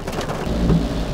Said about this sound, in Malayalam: അപ്പോൾ പാലയിൽ മഴയൊക്കെ നമുക്കൊന്ന് കാണാം. നല്ല മഴയാണ്.